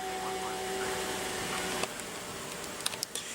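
A 2015 Buick Enclave's 3.6-liter V6 idles with a steady, even hum, a faint tonal whine that fades midway and a few light clicks near the end.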